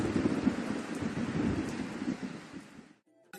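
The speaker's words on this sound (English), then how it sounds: "Now it's starting to rain." Rain falls in the video game Raps, a dense steady hiss with low rumbling that fades out abruptly after about three seconds, followed by a short faint tonal sound.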